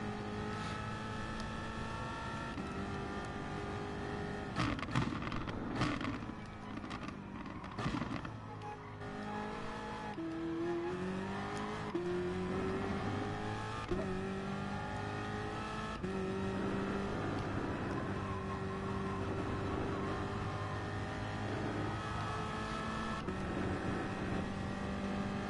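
A BMW race car in a racing video game drones steadily at high revs, with pitch sweeps through gear changes, occasional exhaust crackle and brief tire squeal.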